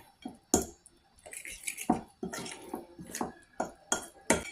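A fish mixture with flour is stirred in a bowl, a series of uneven wet scrapes and clinks of a utensil against the bowl, close and fairly loud, with short pauses between strokes and no talk.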